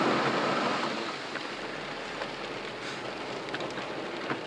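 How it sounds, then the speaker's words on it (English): Heavy rain falls steadily in the UK, a dense continuous hiss with scattered drop impacts and no talking, constant and fairly loud throughout. "it's raining heavily over in the UK"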